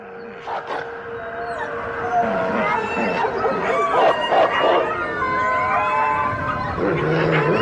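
A wolf pack howls in winter, several long wavering voices overlapping and rising and falling together at moderate distance, with a few shorter yips.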